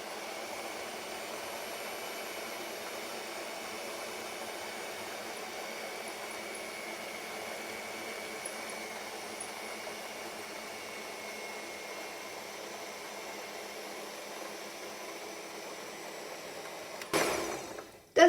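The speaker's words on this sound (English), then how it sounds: "I'm going to put the mixer on its lowest possible speed" Stand mixer whirring on its lowest speed while combining carrot cake batter, a steady, faint motor drone lasting throughout, with a brief clatter near the end.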